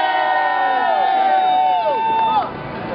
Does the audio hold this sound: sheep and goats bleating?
no